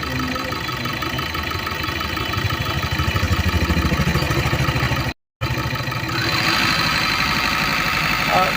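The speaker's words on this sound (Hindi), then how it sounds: "इंजन का आरपीएम हाई हो गया, देख रहे हैं" Mahindra Intra V30 BS6 diesel pickup engine held at high RPM during regeneration, a steady loud droning roar with a brief dropout midway, then a slightly brighter tone afterward.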